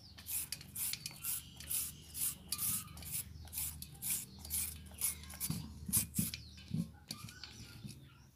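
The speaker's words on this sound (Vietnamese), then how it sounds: "Còn cái củ cải đỏ này ha, mình đã gọt sẵn rửa rồi, bây giờ mình sẽ đem đi bào nó thôi các bạn." A peeled red radish is grated into thin strands, giving repeated dry scraping rasps in quick bursts, fairly close and moderately loud, with a few sharper knocks toward the end and no talking.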